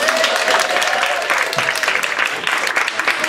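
Moderate applause from an improv comedy show audience, a steady wash of clapping lasting about three seconds with a few voices faintly mixed in.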